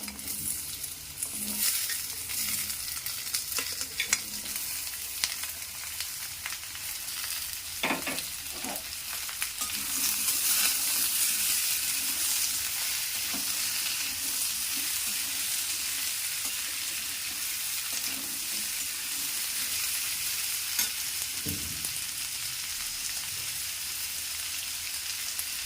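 Potatoes sizzle in hot oil in a pan alongside lightly fried moringa drumstick pieces for an old Bengali posto recipe, a steady close frying hiss with occasional scraping stirs.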